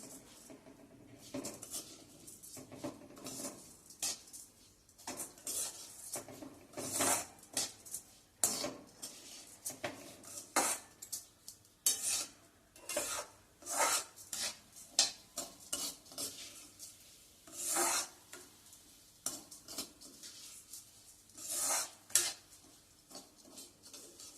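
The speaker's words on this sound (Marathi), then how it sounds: "तांदूळ भाजताना मी थोडस एक अर्धा चमचा तूप त्यामध्ये घालणार आहे" Rice dry-roasted with a little ghee in a pan, heard as irregular metallic scrapes and clinks of a spoon stirring against the pan, close and moderately quiet over a faint background, with no speech.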